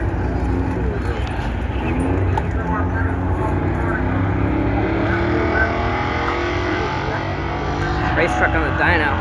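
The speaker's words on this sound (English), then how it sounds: "Race truck on the dyno." Race truck engine running hard on a dyno at a dragway, a loud sustained roar with rising harmonic sweeps throughout, crowd voices and chatter mixed in underneath.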